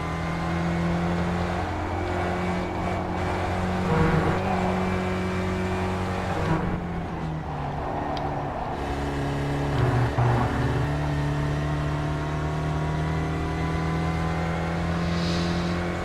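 A Spec Racer Ford race car in iRacing at Road Atlanta, its engine droning and revving loudly up and down through gear changes, sustained and close for the whole stretch.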